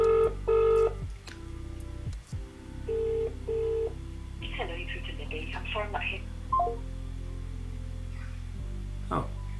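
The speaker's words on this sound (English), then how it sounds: "I need to ring the family." A phone call being placed: a string of steady dialing tones and beeps, then ringback tones, with a voice talking over part of it.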